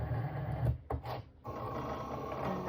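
A Cricut cutting machine scores the center fold line of a thank-you card, a steady mechanical whir with low motor hum, briefly broken by a couple of short pauses, then resuming evenly at close range.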